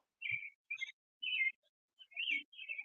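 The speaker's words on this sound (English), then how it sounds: "Damn, those grackles are loud." Grackles giving sharp, high chirping calls in a quick series of about six separate bursts, fairly clear against an otherwise quiet background.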